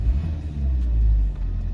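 A Nissan car engine gives a brief, low rev, a close, steady rumble that swells slightly and eases off.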